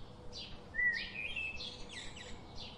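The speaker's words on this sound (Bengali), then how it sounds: "ঘুঘু পাখি ডাকছে গাছে" A dove calls from a tree as a cartoon sound effect, a few soft chirping, warbling notes repeated over a quiet background.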